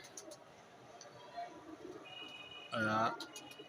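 A short pigeon coo rises briefly over steady low background noise, near and fairly soft, lasting under half a second.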